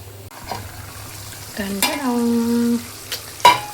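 A spoon stirs paneer masala curry in a pan, giving a few scraping clicks and a brief clattering burst, with a sustained tonal scrape in the middle and a sharp knock near the end.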